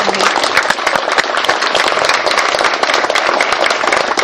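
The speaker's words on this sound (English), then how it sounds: "Let's give Rick a big round of applause for opening up this beautiful home." A room of guests at a lunch fundraiser held in a private home gives a big round of applause, a thick continuous clatter of many hands, loud and close, with no talk over it.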